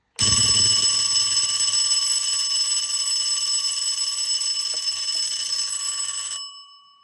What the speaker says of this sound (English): Let me show you what it would sound like if you pulled the alarm.